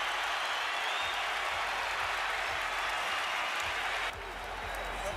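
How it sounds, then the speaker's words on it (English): A boxing crowd keeps up a loud, sustained roar of cheering and applause that dips slightly near the end, with a commentator's voice faintly underneath. "Crowd loves it."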